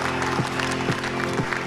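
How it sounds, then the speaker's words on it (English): Applause at a virtual charity fundraiser, a steady, even patter of clapping that holds level throughout, with a low tonal hum and faint intermittent voice-like sounds underneath. "Lord Archer, big round of applause, please, for our auctioneer tonight"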